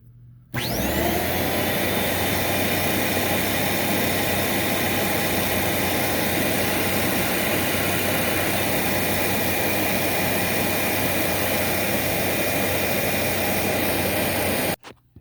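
An Amway Cleartrak vacuum cleaner switches on and runs at a loud, steady roar with a high whine for about fourteen seconds, then cuts off abruptly near the end. No one speaks.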